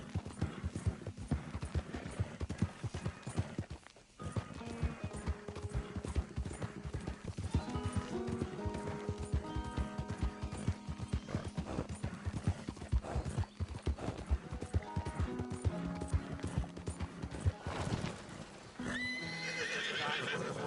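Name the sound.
horse galloping and neighing in Red Dead Redemption 2 video game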